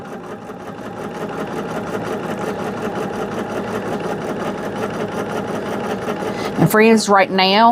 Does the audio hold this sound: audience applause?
no